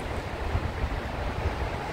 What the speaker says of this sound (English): it's getting quite windy